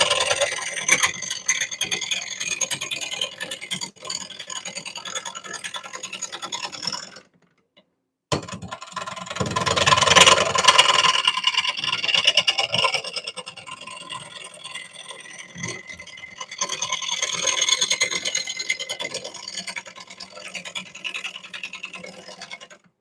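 A gouge riding the bevel and cutting a wooden bowl on a wood lathe, giving a continuous close scraping, rasping hiss that swells and fades, with a brief break in the middle.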